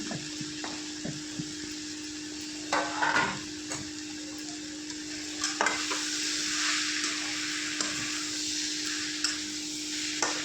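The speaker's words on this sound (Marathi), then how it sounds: "स्मॅश केलेले बटाटे होते ना ते यामध्ये टाकून घ्यायचे आणि परतून परतून घ्यायचे उलटीच्या साह्याने" Smashed potatoes for a spicy potato chutney are sautéed in a pan, with a spatula scraping and turning them over a continuous moderate sizzle. A few sharper scrapes stand out, and a steady faint hum runs underneath.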